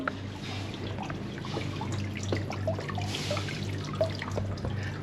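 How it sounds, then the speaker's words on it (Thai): Small decorative waterfall in a bathroom trickling steadily, a soft continuous splash with scattered drips over a low hum, moderately close and unbroken. "นี่ดูก็จะมีน้ำตกเล็กๆน้อยๆ"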